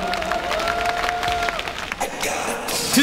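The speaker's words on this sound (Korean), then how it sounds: "여러분 뜨거운 박수로 맞이해 주시기 바랍니다" Applause and cheering from an audience welcoming a taekwondo demonstration team before a competition's opening ceremony in Yeosu, with crowd noise throughout and a steady tone running underneath.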